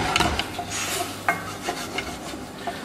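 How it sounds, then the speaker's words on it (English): Soaked dal is stirred in a pan with ghee, garlic and cumin, giving soft, repeated scraping and rubbing strokes with a few light clinks of the spoon against the pan. "Give it a nice stir"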